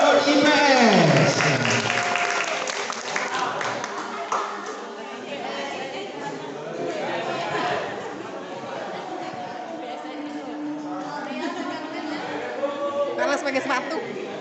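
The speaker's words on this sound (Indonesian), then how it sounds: "Kita kan berikan aplaus untuk IPA" Applause breaks out for a school IPA class group at an Indonesian school event, a sustained wash of clapping mixed with crowd chatter and voices that continues throughout at moderate loudness.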